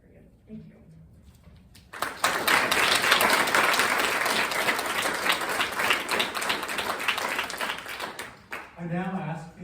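Audience applause at a Christ College Oxford debate swells after a short stretch of speech, holds as a dense, steady wash of many hands for about seven seconds, then cuts off as a voice resumes.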